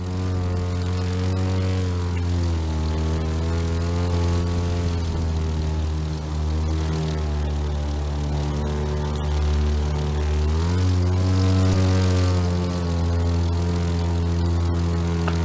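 Propeller airplane engine in the racing video game The Crew 2, a loud steady droning hum with strong harmonic layers that swell in pitch as the throttle shifts, continuous and close throughout.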